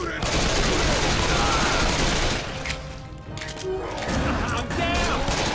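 Dense, rapid gunfire from Left 4 Dead 2, with automatic weapons rattling loud and close in continuous bursts that briefly thin out and then resume, mixed with crashes and game noise.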